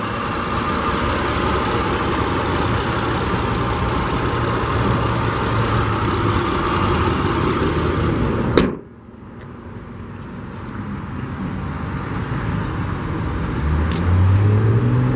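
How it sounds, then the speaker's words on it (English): A 2015 Mitsubishi Outlander GT with a 3-liter V6 idles steadily close by, then a sharp thump near the middle sharply drops the noise before the engine drone slowly builds back. "This one does have Mitsubishi's 3-liter V6. Everything under here is in great shape,"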